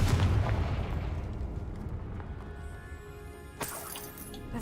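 The Confringo blasting spell in Hogwarts Legacy explodes as a booming, crackling blast that decays over a few seconds, followed by a sharp shattering burst near the end.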